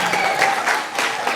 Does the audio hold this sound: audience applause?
yes